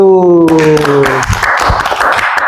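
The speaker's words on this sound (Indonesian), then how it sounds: "Tepuk tangan untuk kelompok 1." In a primary school classroom, a brief burst of hand clapping from the pupils follows a short held voice, greeting a group that has just presented.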